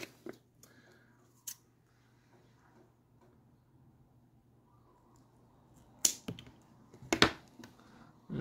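Scissors cut the skirt of a trolling lure, giving a few crisp, close snips spread across a quiet background, with the last two snips coming in quick succession.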